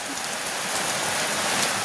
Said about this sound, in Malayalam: നല്ലോണം മഴ പെയ്യുന്നുണ്ട്.